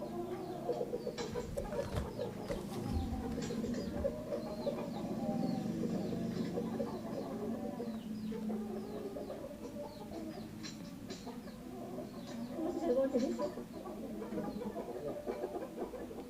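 Young chickens cluck and murmur together in a wooden coop, a steady, busy chorus with occasional sharper calls rising above the low, continuous flock noise.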